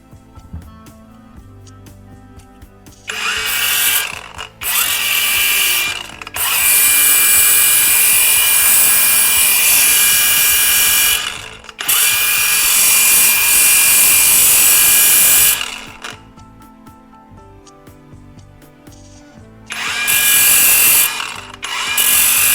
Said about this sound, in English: Next, I prepare 2 rivet pins and sharpen both ends.